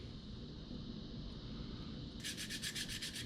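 A blade, of the kind used on hunting knives and broadheads, is sharpened on a knife sharpener. About six quick, rhythmic rasping strokes start partway through, close and clear over a steady low background hum.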